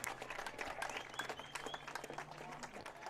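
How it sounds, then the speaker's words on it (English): An audience applauds the Logan-Magnolia high school football team at a postseason game: a moderately distant, continuous patter of clapping with crowd murmur underneath. "Please give them a big round of applause."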